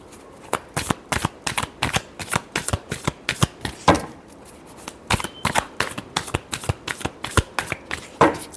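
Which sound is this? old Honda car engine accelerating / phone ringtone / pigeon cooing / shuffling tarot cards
shuffling tarot cards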